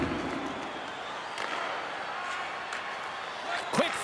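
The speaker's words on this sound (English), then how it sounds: "the crowd has been enjoying this one" Arena crowd noise from an NHL 23 ice hockey video game, a steady murmur of fans cheering beneath continuous commentary voices, with a brief sharp knock near the end.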